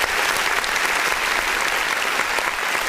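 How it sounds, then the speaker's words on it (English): A full, steady round of applause from a studio audience on an independent-artist music review show, dense and continuous from start to finish with no talking over it. "let's give him a round of applause"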